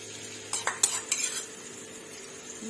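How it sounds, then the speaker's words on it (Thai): Chillies are stir-fried in oil in a pan, a few quick metallic spoon clinks and scrapes landing in the first second and a half over a low, soft sizzle that carries on alone. "หนูก็จะใส่น้ำมันประมาณนี้เลยค่ะ แล้วก็ ก็จะใส่พริกลงไปผัด"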